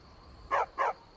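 A dog in the VR version of Skyrim gives two quick, clear barks in a row, close and fairly loud over a quiet background hum.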